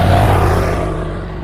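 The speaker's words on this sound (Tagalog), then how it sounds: "May dumaan na motor." A motorcycle passes on a dark road by a bridge with a tunnel, its broad engine noise loudest at the start and then fading as it heads uphill and away.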